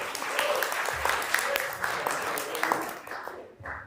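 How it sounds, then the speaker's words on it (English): Audience in a Wednesday night class breaks into applause, a dense stretch of clapping from many hands that swells, holds steady and tapers off near the end, with some voices mixed in. "Give yourself a round of applause for being here tonight."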